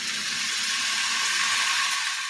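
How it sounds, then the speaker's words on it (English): Certified Piedmontese beef sizzles on a hot surface, a steady close hiss and crackle that stays even and unbroken throughout with no voices. "That's the sound of extremely tender and delicious beef from certified Piedmontese."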